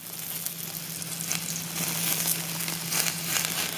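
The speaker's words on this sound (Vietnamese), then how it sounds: "bây giờ mình sẽ nướng bào ngư với bơ tỏi và mỡ hành nha các bạn" Abalone grilling with garlic butter and scallion oil over an open flame, a steady crackling sizzle that builds slightly louder toward the end, heard alone at close range.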